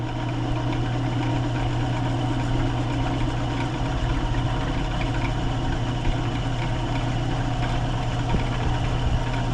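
A wood lathe spins a bowl blank at 800 RPM, making a steady, continuous motor hum with a low drone and even vibration. It sounds close and constant, with no speech.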